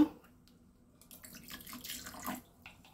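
Cold water pours into a summer drink made with gondhoraj lime juice and black salt. A soft, faint splashing trickle lasts a few seconds and swells briefly near the end.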